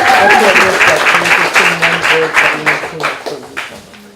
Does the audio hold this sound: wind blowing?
no